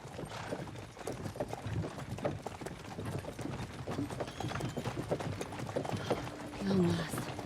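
Rhythmic horse hoof clip-clops from the video game Kingdom Come: Deliverance II, steady and moderately close, mixed with game ambience and a bit of talking.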